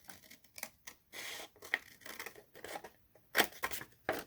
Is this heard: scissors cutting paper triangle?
yes